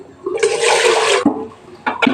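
Freshly boiled water is poured over a home-cooked dish in one rushing splash lasting about a second, followed by a few brief clatters.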